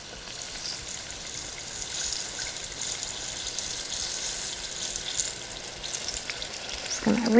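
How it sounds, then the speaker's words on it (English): Mango rangoons bubbling in hot oil in a deep fryer, a dense continuous close sizzle holding steady throughout, with a brief clink near the end and no talking. "So for your visual purposes, I'm going to fry off a couple of these."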